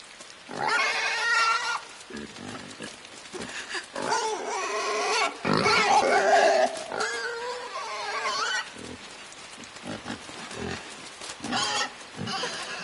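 Pig grunting and snorting in the video game Inside, several short grunts and squeals in irregular bursts, close and fairly loud, with no talk.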